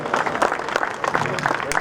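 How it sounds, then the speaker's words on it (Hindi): Audience applause at a felicitation ceremony for a Rajasthan education minister, steady dense clapping from a crowd throughout, loud and close. "ये आपकी तालियां रुकनी नहीं चाहिए"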